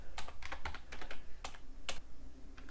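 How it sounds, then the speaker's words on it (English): Typing on a computer keyboard at close range, with quick uneven keystrokes in short clusters and pauses between them. "Wow, I really can't type today."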